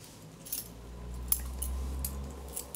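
Keys clipped to a Nite Ize bottle opener carabiner jingle softly, with light metallic clinks scattered over a low, steady hum, close but faint.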